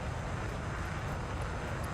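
Helicopter flying in the video game Flyout, a steady broadband engine and rotor drone that holds even and unbroken, fairly close and without talk.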